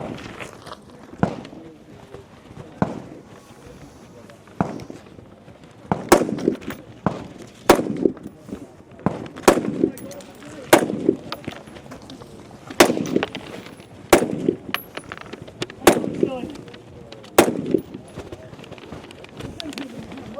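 Gunshots ring out on a practical shooting competition stage in a men's 60+ regional match, with competitors firing rifle and pistol through ports. Sharp, loud cracks come in irregular bursts, some in quick pairs, and a voice talks between them.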